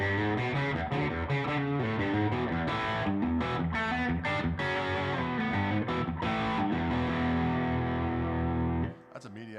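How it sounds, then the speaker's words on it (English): Fender Stratocaster electric guitar with heavy gain from a Koch amplifier, played live: dense distorted chords and riffing that ring continuously at steady loudness, then cut off near the end. "all the gain sounds you're hearing are the Koch amplifier"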